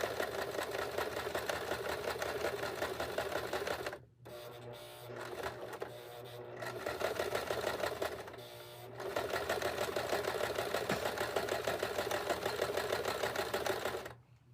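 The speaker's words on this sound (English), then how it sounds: "now we're going to go ahead and sew this around zigzag" Home sewing machine running a zigzag stitch around a fabric lid cover, a steady rapid mechanical whir with brief pauses in the middle before stitching resumes at full pace.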